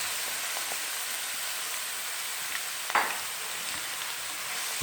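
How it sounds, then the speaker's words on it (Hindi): Grated bottle gourd frying in a pan gives a steady, even sizzle with a few faint stirring scrapes and one brief clatter partway through, no talking. "इसको अब हम थोड़ा भूनेंगे।"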